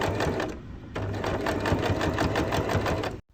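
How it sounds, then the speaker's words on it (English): A sewing machine stitching pinned fabric panels of a sling bag together, running fast and steady up close with a brief pause and restart before stopping. "sew the pinned area."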